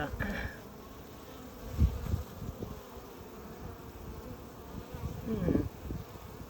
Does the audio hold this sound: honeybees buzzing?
yes